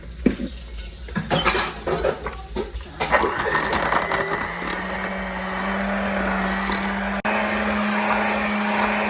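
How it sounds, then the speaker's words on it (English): A hand mixer whirs through vegetable oil, sugar, eggs and cinnamon for an apple cake batter, with clattering bowl knocks at first, then a steady close motor drone. "We're just gonna use a hand mixer."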